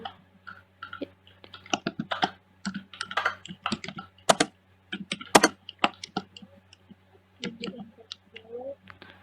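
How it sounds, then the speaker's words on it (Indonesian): Keys clatter on a computer keyboard as a book title is typed into library software, a steady run of close, irregular clicks with short pauses and a low background hum. "Kita kembali, kita ketik judulnya"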